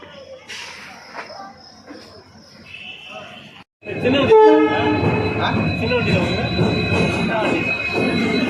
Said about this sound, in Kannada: ಇದು 11 ಗಂಟೆ ಟ್ರೈನ್.